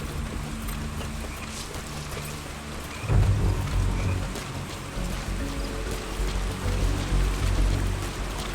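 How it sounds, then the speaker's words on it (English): Rain falling in Metal Gear Solid V: The Phantom Pain, a dense steady patter of drops that thickens after a soft thump, continuing as a constant hiss with scattered sharper drips. "Caution, rain approaching."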